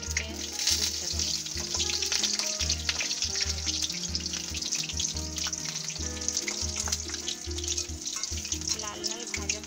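Bokful (sesbania flower) fritters frying in hot oil in a pan, a dense continuous sizzle and crackle throughout, close and steady.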